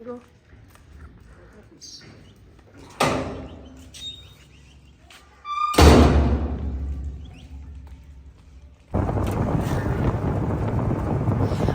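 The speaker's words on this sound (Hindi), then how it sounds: "ठंडी हवा चल रही थी" Cold wind gusting outdoors during a light drizzle, heard as rising and falling broadband rushes that build to a steady, loud roar near the microphone, with brief faint bird chirps early on.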